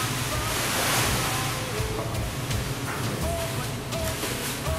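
Vegetables from a farmer's market are rinsed under running water, producing a steady, loud, broadband rush that continues unbroken from start to finish.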